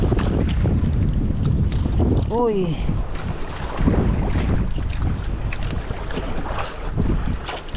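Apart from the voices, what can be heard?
strong wind blowing at sea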